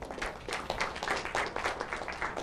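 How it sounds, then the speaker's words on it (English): Audience applause at a university lecture on autonomous vehicles, a dense, even patter of many hands clapping at once, steady and fairly loud for a couple of seconds. "I would like to give her a round of applause for that"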